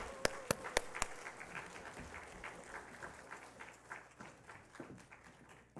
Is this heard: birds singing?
no